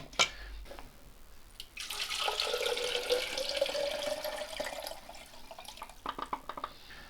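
Running water washing developed black and white film: after a few faint clicks and drips, a steady hissing stream from a tap flows for several seconds and then stops, followed by scattered drips.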